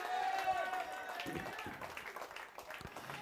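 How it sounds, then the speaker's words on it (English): Faint, distant applause from a cricket crowd at a club final, honoring an 11-year-old player, sustained for a few seconds with a voice carrying over it. "Let's give him a big round of applause"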